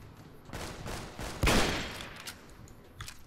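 Gunfire in Fallout New Vegas, a few muffled shots with one louder blast standing out amid quieter scattered reports.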